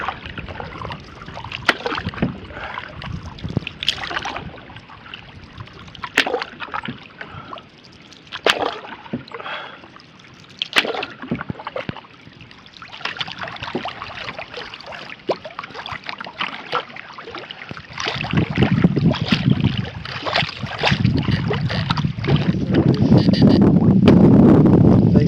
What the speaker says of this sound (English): Wind's picking up out of the west. Hopefully the wind noise isn't too bad.